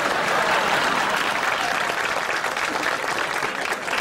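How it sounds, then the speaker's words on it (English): Steady, dense applause from a large audience honoring a golfer's hole in one, a continuous wash of clapping at full strength throughout that tapers only slightly near the end. "how about a big round of applause for Barry Martin and his hole in one?"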